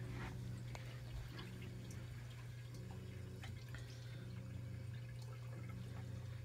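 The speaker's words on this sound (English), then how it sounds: "I filled up some more water in the tank." Water runs into a 150 gallon reef aquarium tank, with scattered drips and splashes over a constant low pump hum, steady and close throughout.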